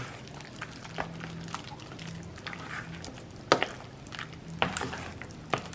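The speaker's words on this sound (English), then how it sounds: "And you want to mix this up all the way." Cream cheese and egg being stirred for lasagna filling, producing soft, close, continuous squelching and scraping with a few sharper clicks of the utensil against the bowl.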